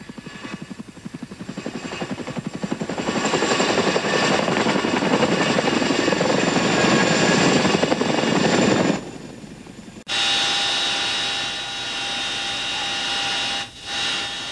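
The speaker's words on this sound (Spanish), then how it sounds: "the MH-47 will come in on call" An MH-47 helicopter approaches low over water with a loud, heavy rotor thump and engine roar that holds steady, then drops sharply before a higher turbine whine continues.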